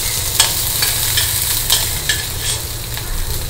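Urad dal, mustard seeds and green chili sizzle steadily in hot oil in a pan, with light clinks of stirring scattered through the frying.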